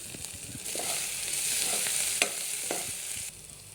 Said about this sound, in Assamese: এতিয়া মই মাছ ভজা তেলখিনিতে পিঁয়াজ দি দিছোঁ, আদা নহৰু দি দিছোঁ।